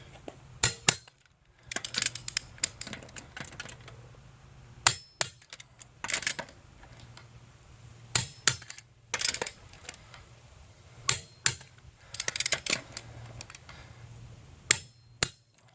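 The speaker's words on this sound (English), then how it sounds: "we're going to go ahead and torque these lugs to 100 foot-pounds" A torque wrench tightens the lug nuts on a 2013 Hyundai Sonata hybrid, giving repeated sharp metallic clicks and clanks in irregular bursts over a quiet background, close by, with no talk.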